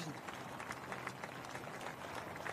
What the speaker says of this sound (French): Au passage du cortège funéraire, spontanément, la foule applaudit.